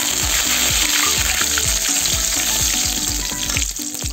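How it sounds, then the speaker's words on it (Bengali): Whole cumin, cardamom, cinnamon and curry leaves fry in hot oil for a hotel-style aloo baingan, giving a loud, close, continuous sizzle and crackle with a rhythmic clatter running underneath. "তারপরে দেবো এই যে গোটা জিরা আর এই যে দেবো কটা কড়ি পাতা"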